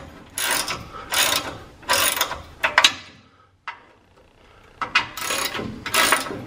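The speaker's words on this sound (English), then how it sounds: "I don't know why I'm using an extended socket here, but that's what I got." Hand ratchet with an extended socket working a fastener on a Ram differential, bursts of rapid clicking in short strokes with brief pauses between, close and clear, with no talk.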